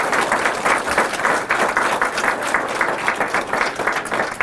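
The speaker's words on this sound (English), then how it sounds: "So how about another round of applause for our students?" An audience at a fifth grade student council leadership summit applauds the students, giving a loud, even round of clapping that runs the whole time with no speech.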